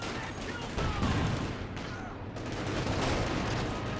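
Continuous machine-gun and rifle fire rattles through a Company of Heroes 2 battle around an MG42 position, with dense overlapping bursts at a steady intensity.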